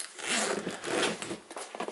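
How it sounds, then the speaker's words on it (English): A stout zipper on a tool organizer backpack is pulled open in a couple of quick, rasping strokes, close and fairly loud with no talking. "zippers, pretty stout zippers."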